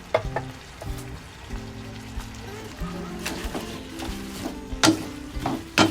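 Steady oil sizzle with intermittent scraping and clinks of a utensil stirring basil leaves and mussels in a pan, a voice talking quietly underneath.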